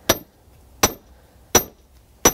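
A hard steel hammer strikes the back of an axe head four times at an even pace. Each blow lands as a sharp, bright, ringing metallic clank, close and loud, and decays quickly into near silence.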